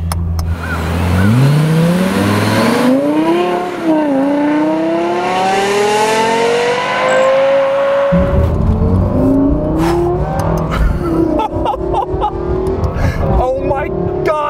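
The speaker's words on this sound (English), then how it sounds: "That sound, it's like a Formula One car." A Lexus LFA supercar's high-revving engine climbing through the gears with a rising wail, then dropping and revving again, loud and close, with voices talking over it.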